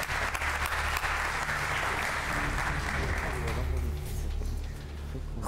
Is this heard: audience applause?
yes